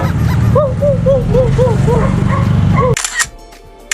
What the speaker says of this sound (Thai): เสียงหมาบ้านเขาก็เสียงเหมือนหมาบ้านเราเหมือนกันนะ